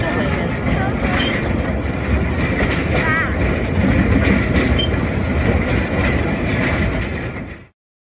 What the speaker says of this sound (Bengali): দেখেছেন ট্রেনটা কেমন পেছনে যাচ্ছে?